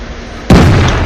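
A tank cannon fires in World of Tanks, a single loud, heavy boom that cuts in abruptly and rolls on with a dense rumbling tail after a quieter stretch of background ambience.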